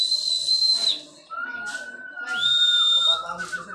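At a pigeon race, shrill whistle blasts repeat over and over, loud and near, with a long steady tone running between them and faint voices in the background.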